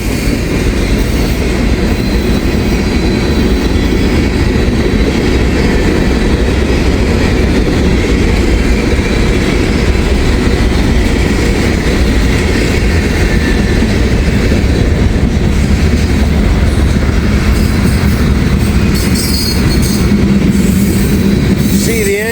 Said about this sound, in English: I bet you this is M511. M511 is usually a really long train.